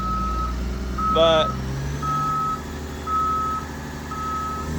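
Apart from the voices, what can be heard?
truck reversing beeps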